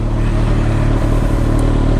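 Kawasaki ZZR1400 sportbike exhaust idles and burbles loudly up close, a steady deep throb with slight fluctuations and no talking over it.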